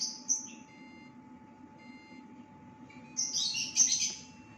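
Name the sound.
automatic spot welder beeping before welding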